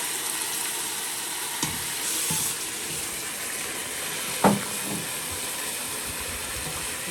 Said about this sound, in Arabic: دلوقتي ده الرز بعد ما غسلناه وصفيناه هننزله اهو، ودي معلقه زبده وشويه زيت صغيرين